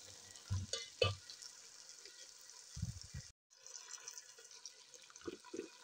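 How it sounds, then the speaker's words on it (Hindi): 500 grams of julienne-cut potatoes frying in a pan, a soft steady sizzle with a few stirring clatters and scrapes, fairly quiet and close, no voices. "और इनको फ्राई करती हूँ।"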